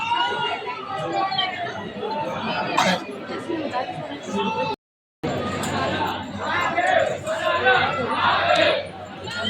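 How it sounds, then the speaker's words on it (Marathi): A dense crowd chatters around the main temple in Ujjain, a steady, loud babble of many overlapping voices with no single speaker standing out, cut by a brief silent gap. "गर्दी तर गर्दीची"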